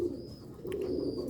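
Old-breed Sialkoti pigeons coo softly in a low, continuous murmur, a close but quiet burr with no voices.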